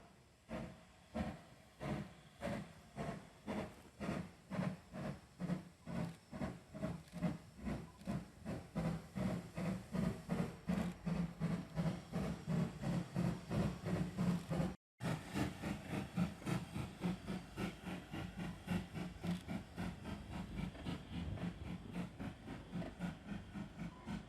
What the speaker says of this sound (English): I got the steam train leaving